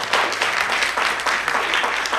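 Applause for two youth teams at a competition in Port-Bouët, a dense, lively burst of clapping from a crowd, steady and fairly loud throughout with no voices over it.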